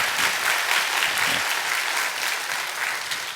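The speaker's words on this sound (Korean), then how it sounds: "다시 한번 우리 하나님께 영광의 박수 올려드리겠습니다" A church congregation breaks into loud, dense applause during a Sunday service, a full, continuous roar of clapping that holds steady for the whole stretch.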